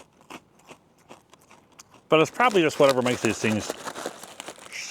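Freeze-dried Skittles Pop'd candy crunches and crackles close up with a few sharp, crisp bites, then a person speaks over the fainter chewing.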